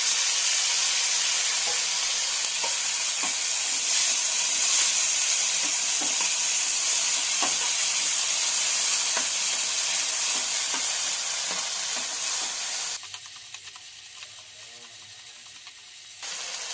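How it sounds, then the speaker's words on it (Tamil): Onions and chickpea sundal sauté in a pan with a steady, loud sizzle and faint stirring clicks, quieting near the end. "வெங்காயம் வதங்கிட்டு சுண்டல் போட்டுடலாம்."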